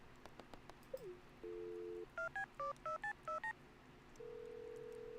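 Electronic telephone keypad tones in Stardew Valley, a quick run of seven or eight dual-pitch beeps in a steady rhythm, framed by longer held dial and ringing tones, clear and fairly loud with no talking.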